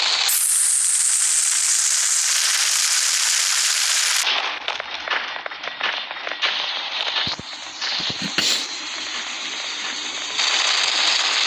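A sentry gun fires in the Bad 2 Bad Apocalypse video game with dense rapid bursts of synthetic gunfire, first in a loud continuous stream, then as choppier staccato shots mixed with impacts, before the steady firing picks up again.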